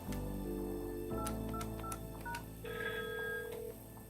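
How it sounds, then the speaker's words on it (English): Keypad dialing tones on a Cisco MPP 508 desk phone during a call transfer, a run of short DTMF beeps pressed in quick succession over a steady background tone, close and fairly quiet with no talk. "Say I hit this transfer button and talk to Bob."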